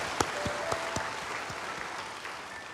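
A church congregation applauds to the Lord, a faint, distant wash of clapping with a few sharper claps standing out, steady and fading slightly toward the end.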